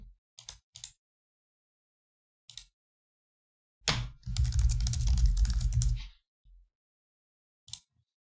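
Computer keyboard typing, a few sparse clicks, then a dense two-second burst of rapid keystrokes, and a final lone tap in a quiet room.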